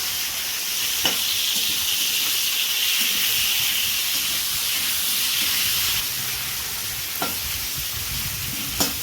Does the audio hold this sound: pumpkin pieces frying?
yes